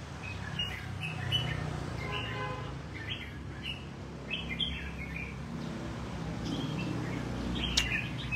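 An escaped pet bird chirps outdoors in a yard in short, high, scattered tweets, moderately distant over a steady rumble of background noise.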